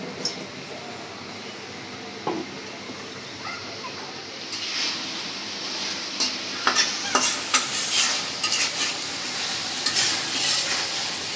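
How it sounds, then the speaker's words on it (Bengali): Large freshwater prawns from the Payra river are fried and stirred for bhuna in a pan. A soft sizzle grows louder, and scraping spatula strokes and clinks come in close, with no talking. "চিংড়ি মাছটা ভুনা করা হয়ে গেছে আমার।"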